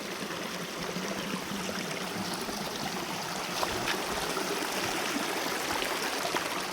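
A river flows steadily, with a broad, constant rushing of water that stays loud and close throughout and has no talk over it.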